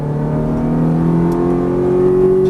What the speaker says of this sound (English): Now give it some throttle, carry that speed.